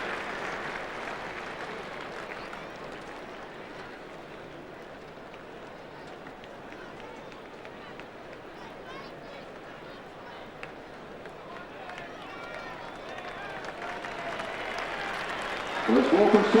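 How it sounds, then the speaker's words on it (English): A stadium crowd at an AFL State of Origin football match applauds schoolchildren leaving the ground, a broad distant roar of clapping and crowd noise that holds steady and swells near the end. "let's give these kids a big round of applause"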